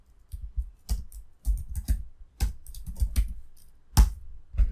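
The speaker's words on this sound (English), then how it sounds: "So let's just type input here." Bursts of keystrokes on a computer keyboard, clicking in short irregular clusters with brief pauses, close and fairly clear, with no one speaking.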